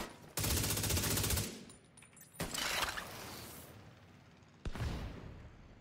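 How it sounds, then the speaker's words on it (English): A minigun fires in a video game in three rapid, dense bursts: a long roaring stream first, then a second shorter one, and a final brief burst after a quiet gap. "Okay, I'm using minigun right now."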